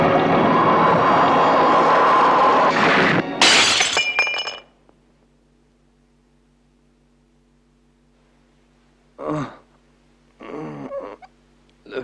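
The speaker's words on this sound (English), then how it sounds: "If we break the glass, the water could put out the flames." Glass shatters loudly on a puppet undersea TV series after a sustained roar of rushing noise, then tinkling debris fades to near silence, with a couple of brief later sounds.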